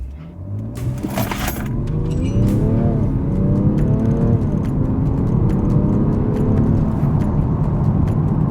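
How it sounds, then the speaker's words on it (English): A car with no chip tuning box fitted revs hard and accelerates steadily from 0 to 60, its pitch climbing through several rising sweeps, loud and close, with a brief jangle early on. "we're just about to do our first run, 0 to 60 without the box on"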